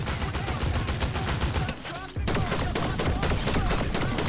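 Rapid, dense gunfire from the video game Fortnite rattles continuously and loudly, with a brief lull midway before the barrage resumes.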